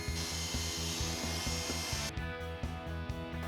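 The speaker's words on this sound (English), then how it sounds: "also I want to cut the side trim." Wooden side trim for a carbonite prop box is cut with a steady, rhythmic sawing that runs continuously and close, with repeated stroke pulses and a brighter, harsher edge for the first two seconds.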